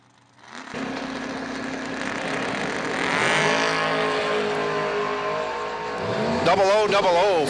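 Camaro drag race cars roar down the strip at a drag racing event, engines building from a sharp launch to a loud sustained howl, with an announcer's voice running over the racket.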